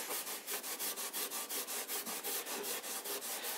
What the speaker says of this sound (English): You can use double O steel wool, because double O steel wool will take a lot of this shellac back.